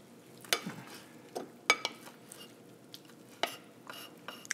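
Food ingredients being mixed in a bowl, quiet intermittent scrapes and clinks of a utensil against the dish, sparse irregular strokes at close range with no talking.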